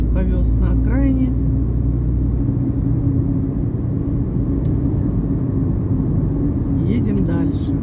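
A car cruises out of Apsheronsk with a steady low road rumble and engine drone throughout, while someone speaks over it at the start and again near the end.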